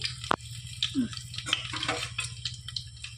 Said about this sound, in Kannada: ಇದನ್ನು ಸ್ವಲ್ಪ ಫ್ರೈ ಮಾಡಿ ತಗೊಳ್ಬೇಕು ಇದನ್ನೀಗ ಫ್ರೈ ಮಾಡಿ ತಗೊಳ್ತಿದ್ದೀನಿ